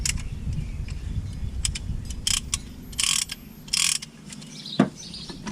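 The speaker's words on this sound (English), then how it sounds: "It ratchets." A ratcheting tool for depressing brake caliper pistons on a Chevy Impala clicks in short bursts, several quick close ratchet runs separated by pauses, with a faint thump near the end.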